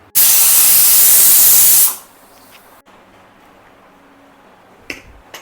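Pressure cooker on a medium flame venting steam while cooking jeera rice, a loud hissing burst lasting under two seconds that stops sharply, followed by quiet kitchen background and a faint click.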